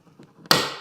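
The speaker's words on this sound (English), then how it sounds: "We're going to use a center punch and make a mark so the drill will not walk around on us." A center punch struck once to mark a drilling spot before drilling a pilot hole in the plastic trunk area of a 2021-or-newer Honda, one sharp close metallic tap preceded by faint handling noises, ringing briefly and fading.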